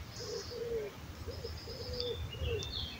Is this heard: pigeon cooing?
yes